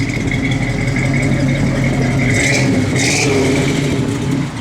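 A 1966 Chevrolet Malibu convertible's engine runs loud and steady close by, with a couple of brief revs rising over the continuous mid-pitched rumble.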